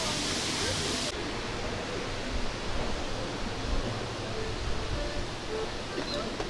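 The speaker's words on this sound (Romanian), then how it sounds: "auzi cascada în fiecare zi, în fiecare noapte" Waterfall in Tbilisi, heard as a steady broadband rush of falling water, continuous and fairly close, with no voices over it.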